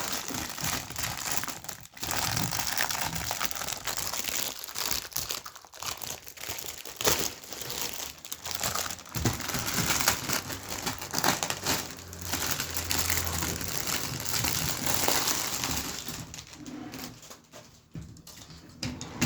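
A plastic bag around a model kit of a medieval fortress is ripped open by hand without scissors or a knife: close, continuous crinkling and crunching with sharp tearing bursts and brief pauses, and no talking.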